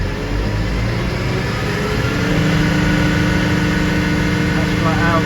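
A farm tractor engine is revved up flat out, a loud steady roar that holds its pitch throughout, close by, while it powers a muck spreader.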